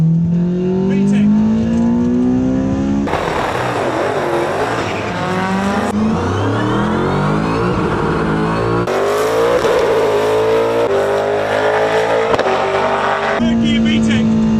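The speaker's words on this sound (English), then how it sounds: "Go Mini! Into second gear. VTEC." A Mini race car with a VTEC engine accelerates hard through the gears, its loud, close engine note climbing in pitch and dropping at each upshift, with a voice shouting over it.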